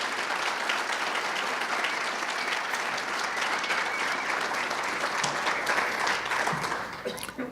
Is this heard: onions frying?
no